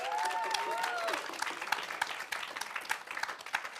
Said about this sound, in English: can I please get a round of applause for all the special guests who are joining me today?